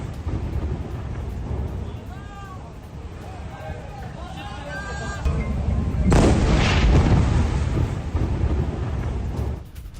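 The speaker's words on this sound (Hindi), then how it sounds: "इजरायली हमले में हिजबुल्लाह के कई पोस्ट ध्वस्त हुए हैं।" Israeli strikes hit Hezbollah posts in Lebanon, with one heavy blast bursting out midway over a continuous low rumble. Raised voices are heard earlier, and the deep roar lingers loudly afterward.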